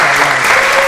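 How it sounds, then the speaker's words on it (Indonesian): A brief burst of audience applause at a talk show held in an Islamic boarding school: dense, loud, continuous clapping from a crowd, heard alone for under a second. "Boleh kasih tepuk tangan dulu."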